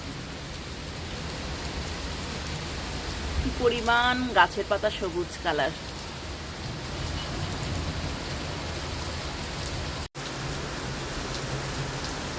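Heavy, steady downpour drums on surfaces throughout, a dense close wash of rain that never lets up, with someone speaking briefly over it in the middle.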